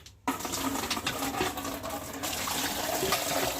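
Water gushes from a tap into a bucket for washing jute leaves, starting suddenly after a brief quiet and then pouring continuously and close, with no talking.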